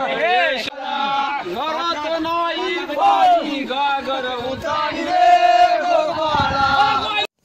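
At a village Dahi Handi festival procession, a crowd cheers and chants loudly in unison, with voices rising and falling in rhythmic shouted bursts close by.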